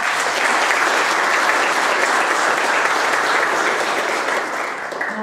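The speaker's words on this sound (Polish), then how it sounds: "Brawa!" A crowd claps loudly and continuously, dense applause that holds steady and only eases slightly near the end.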